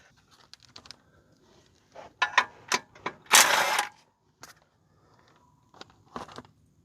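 Pneumatic impact wrench with a 13 mm socket rattling on bolts during clutch work on a 1987 Pontiac Fiero, with short bursts of hammering and one longer loud burst among clicks and tool handling nearby.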